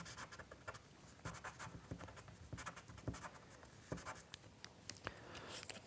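Pastel pencil sketching on paper, a soft scratchy rasp of quick strokes and taps in an irregular rhythm, close and quiet with no voices.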